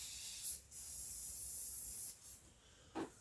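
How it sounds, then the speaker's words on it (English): Short bursts of spray from an aerosol can lightly coating the top of a breadfruit and pork meat pie, a longer hiss in the middle followed by brief puffs, close by with no talking. "So on top, lightly spray."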